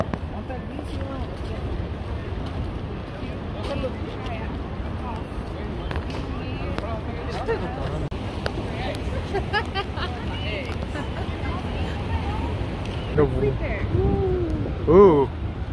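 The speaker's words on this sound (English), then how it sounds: "Wow, man, the wind's picking up for us." Gusty wind roars steadily in the Yosemite outdoors, a broad rushing noise that swells toward the end, with people talking and exclaiming over it throughout.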